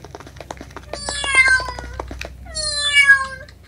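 A person imitates a cat with two long, drawn-out meows, voiced loudly and close up with a clear harmonic wail, each rising and falling over about a second, with a short pause between them.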